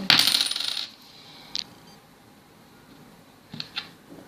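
A loud metallic rattle of a coin dropping into a small Lego candy machine, followed by a couple of faint clicks and clinks, with no talking.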